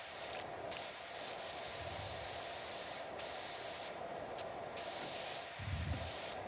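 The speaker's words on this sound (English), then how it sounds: "Alright, let's spray that off." Pressure washer spraying in PowerWash Simulator 2, a steady hissing jet that cuts in and out in short bursts, fairly quiet and close, with no voices.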